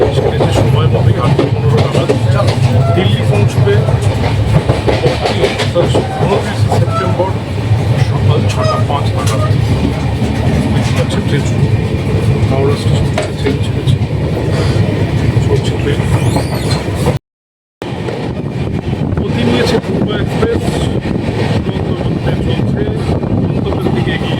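The Poorva Express passenger train from Howrah to New Delhi rumbles along steadily with rhythmic clatter from the wheels, loud and continuous, with voices faintly under the noise and a brief cut partway.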